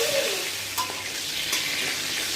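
Pieces of pointed gourd (potol) frying in oil in a karahi, a loud, close, steady crackling sizzle with a couple of brief stirring clicks, no voices.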